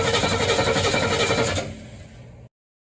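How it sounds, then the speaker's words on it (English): A loud, steady engine rumble runs for about a second and a half, then drops to a quieter idle before cutting off abruptly. "and then I'll crank the engine."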